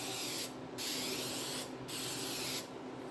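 An aerosol spray can coats a 1968 Pontiac GTO 400 valley pan cover in three steady hissing bursts, each about a second long, separated by brief pauses, close and alone.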